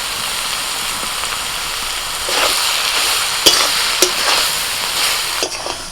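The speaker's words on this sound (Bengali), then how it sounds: "চিনিটা দিয়ে একটু নাড়াচাড়া করলাম।" Ash gourd cooks with shrimp and sugar in a pan, giving a steady hiss and sizzle with a few sharp spatula knocks and scrapes as it is stirred.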